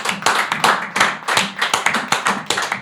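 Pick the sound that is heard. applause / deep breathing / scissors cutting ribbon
applause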